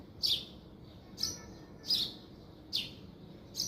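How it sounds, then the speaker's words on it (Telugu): Five short, high-pitched bird chirps repeat at a steady pace in a garden, each a quick bright tweet over a quiet background. "బర్డ్స్ చాలా బాగా అరుస్తున్నాయి."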